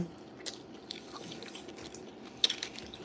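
A pet dog chews food indoors, soft wet crunches and bites coming irregularly at close range over a quiet background, with a sharper crunch near the end.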